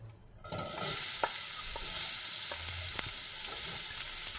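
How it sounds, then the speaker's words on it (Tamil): Chopped onions hit hot sesame oil in a pan and burst into a loud, steady sizzle that continues with light stirring crackles. "நல்லெண்ணெய் ஹீட் ஆனதும் இதில் நம்ம நறுக்கி வச்சுருக்கிற வெங்காயத்தை சேர்த்துக்கலாம்."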